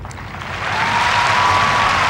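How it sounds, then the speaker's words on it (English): Crowd applause and cheering at a horse eventing dressage competition after a ride finishes down the center line, a broad, steady roar that swells louder over two seconds and holds strong. "The crowd roaring their approval"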